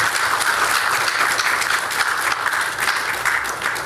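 A crowd at a Ghanaian national event applauds steadily with dense, sustained clapping that stays loud and even throughout.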